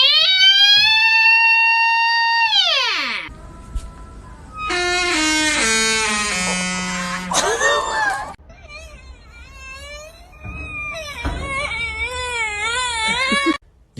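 A train door gives off a strange, voice-like whine, rising and falling and wavering in pitch through several long cries broken by short gaps.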